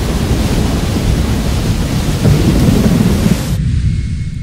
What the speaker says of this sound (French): Le vent souffle, l'orage gronde, la foudre menace votre réserve de poudre.